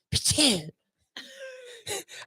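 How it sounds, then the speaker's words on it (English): A dog sneezes outdoors in the woods: a sharp, nasal, almost childlike burst, a pause, then a longer wavering whine-like snort with a brief extra puff at the end. The sound is close and fairly loud. "Because Chili's over there, he's sneezing"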